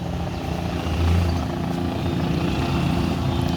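A helicopter that has landed at an airport taxis toward its hangar, its engine and rotor making a continuous loud drone with a brief swell near the start. No one talks.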